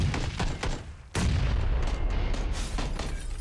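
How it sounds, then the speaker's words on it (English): Grenades going off in a competitive video game match, a flurry of sharp pops and booms followed by one loud blast and a sustained heavy rumble of further explosions. "Lots of nades."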